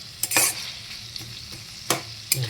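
Tomato and onion sauté in a pan for green-chilli sambar, a soft continuous sizzle broken by a few sharp scraping stirs of the spoon, close and fairly quiet with no talking.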